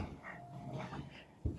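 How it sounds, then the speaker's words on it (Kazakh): A puppy whimpers and whines in short, thin cries, fairly close, ending in a sharper yelp; no one speaks. "Күшік бар дейсің бе? Қандай күшік?"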